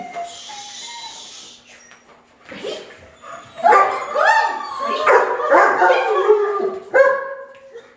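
A dog being trained with food for drive lets out a string of excited, high-pitched barks, yips and whines, close and loud, in rapid bursts after a quieter whimpering start.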